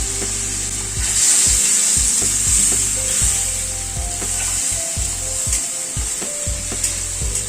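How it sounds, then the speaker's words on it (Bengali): Ridge gourd sautéed with a turmeric and Kashmiri chilli paste in a pan, a loud bright sizzle over repeated scraping and knocking strokes of a spatula stirring the mixture. "গুঁড়ো মশলাটা ঝিঙার সাথে একটুখানি কষিয়ে নেব"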